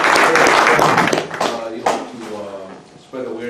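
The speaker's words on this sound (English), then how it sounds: "we'll have to give you a clap for about that" An audience claps for a guest at a question-period event, a short loud burst that fades over about a second before people start talking.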